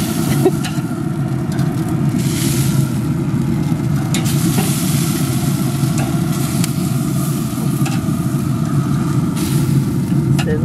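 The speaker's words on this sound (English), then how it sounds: "Sizzle, sizzle." Continuous sizzling of food frying in a pan, a dense crackle over a low rumbling hum, steady and close throughout.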